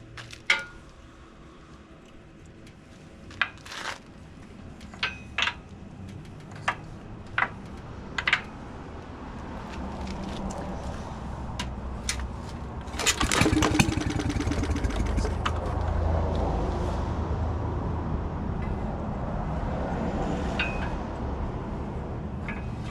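A Maytag Model 72 engine being pull-started, a series of sharp rattling clicks from the cord pulls, then a brief sputter and a low rumbling run that continues at moderate loudness.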